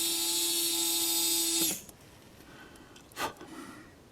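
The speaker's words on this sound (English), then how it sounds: "I don't know if you can see the drill bit in there or not, but I'm about halfway through with that." A small drill bit boring into a Proto2000 GP30 model locomotive gives a steady, high-pitched whine that runs close and loud, then cuts off abruptly, followed by a brief knock and quiet handling.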